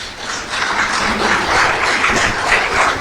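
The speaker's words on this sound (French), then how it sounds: "Permettez-moi de vous inviter, chers délégués, à vous lever pour applaudir chaleureusement un visionnaire" Standing delegates at a football federation general assembly applaud a visionary, a broad, sustained wash of clapping filling the hall, steady and loud without pauses.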